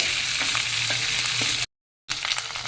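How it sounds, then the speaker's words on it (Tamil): Red and Kashmiri dried chillies sauté in a pan for a hotel-style kara chutney. A steady broadband sizzle runs throughout with a few faint stirring clinks, then breaks off briefly near the end before resuming. "ஒரு 4 வரமிளகா, ஒரு காஷ்மீர் மிளகா கலருக்காக போட்டுட்டேன். இதெல்லாம் நல்லா வதக்கிட்டு"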